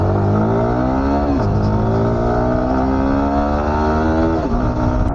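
A Yamaha R15 V4M motorcycle revs hard and accelerates up close, its loud engine note rising steadily with brief dips at gear shifts, continuous with no talking.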